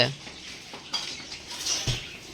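Hand-washing of dishes, pots and utensils produces scattered light clinks and scrapes of metal vessels nearby, with a dull knock near the end and soft voices in the background.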